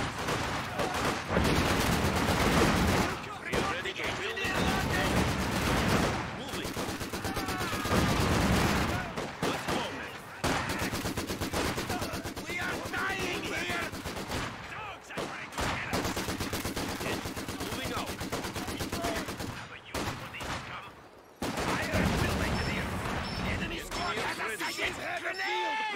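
Dense infantry gunfire fills a war video game battle, with rapid bursts and overlapping shots running almost continuously, pausing only briefly, while voices sound underneath.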